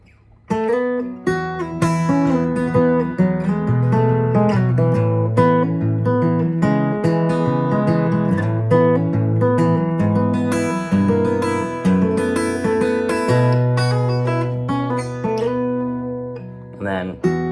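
The second section of a fingerstyle tune is played on guitar: plucked melody notes ring over a moving bass line, continuous and close, with no talking.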